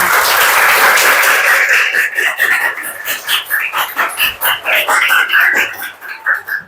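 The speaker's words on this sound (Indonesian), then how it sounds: "Oke, tepuk tangan untuk kelas 8A." A classroom of schoolchildren applauding for class 8A, a loud burst of many hands clapping that gradually breaks into uneven, pulsing rounds with scattered shouts mixed in.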